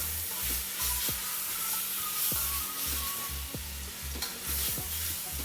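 Chicken pieces stirred with aromatics in a hot pan for Filipino tinola, rhythmic spoon scrapes and knocks over a continuous close sizzle, repeating roughly every half second.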